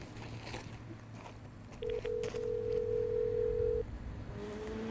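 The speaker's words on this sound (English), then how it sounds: "I am supposed to call Matt Desch from my Iridium cell phone" Iridium satellite cell phone placing a call, with a steady dial or ringback tone holding for about two seconds over low background rumble, then breaking off into quieter noise.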